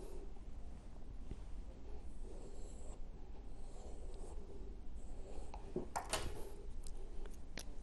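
Pen drawing a circle on a board, faint scratchy writing strokes over a low background hum.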